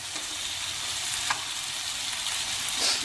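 Chicken masala sizzles steadily in a kadhai while cooking chicken Peshawari, a soft continuous frying hiss with faint stirring scrapes and no voices.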